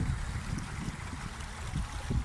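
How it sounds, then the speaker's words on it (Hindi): Mountain stream water flowing steadily at a scenic spot in Nowshera, a continuous low rushing and gurgling wash close by with no talking. "यहाँ ये पानी यहाँ पर मौजूद है, पानी पहाड़ों से आ रहा है"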